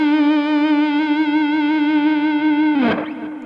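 Gibson Les Paul Standard electric guitar played through heavy distortion, a single sustained chord ringing loud and thick for nearly three seconds before a brief scraping pick or string noise near the end.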